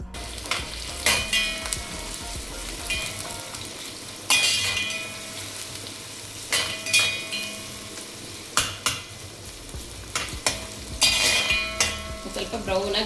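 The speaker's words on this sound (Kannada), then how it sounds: "ಈರುಳ್ಳಿ ಹಾಕ್ತಾ ಇದ್ದೀನಿ." Onions fry in hot oil with toasted pulao spices for egg biryani, a continuous loud sizzle punctuated by repeated bursts of a utensil stirring and scraping the pan at close range.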